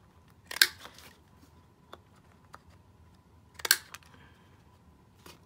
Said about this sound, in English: I think I'm gonna do my little snippety snip here